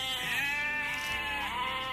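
A goat kept as a pet bleats in one long, loud, wavering cry that fills the whole moment, close and alone with no talk over it.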